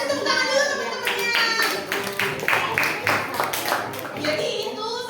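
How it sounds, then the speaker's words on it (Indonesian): Elementary school students clap their hands together in a classroom, a steady burst of mixed claps that runs for several seconds while children and an adult talk over it. "kasih tepuk tangan dulu teman-temannya"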